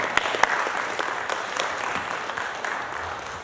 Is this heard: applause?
yes